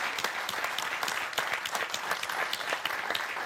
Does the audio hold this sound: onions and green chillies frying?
no